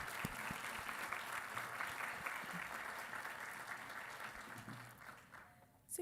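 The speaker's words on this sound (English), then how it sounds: "I wanted us to all give another round of applause for President Dr. Sims, the Board of Trustees, and the great faculty here at Capital Tech." Commencement ceremony audience applauding in a large hall, a sustained, even clapping that gradually thins and fades near the end before a sharp closing sound.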